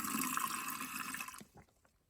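Water pours in a loud, hissing rush into a container of crabapples for processing, then cuts off abruptly, leaving faint drips and small splashes.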